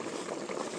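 Sinigang broth bubbles at a steady boil in a pot, a soft continuous wash of bubbling heard close up with no other sounds.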